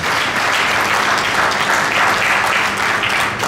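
Loud, dense audience applause fills a ceremony proclaiming Mali's Living Treasures, a steady close wash of clapping with no pauses and no voices over it.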